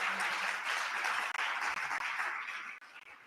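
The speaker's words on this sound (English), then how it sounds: "Applause, applause." At a 30th anniversary gathering, an audience claps in a sustained round of applause that tapers off gradually toward the end, with no talking over it.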